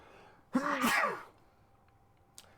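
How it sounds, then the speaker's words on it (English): A single close sneeze bursts out in a quiet room during a tabletop role-playing game session, then quiet returns, with a faint click near the end. "Sorry, I was sneeze."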